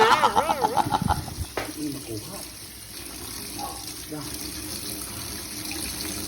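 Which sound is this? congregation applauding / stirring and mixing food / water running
water running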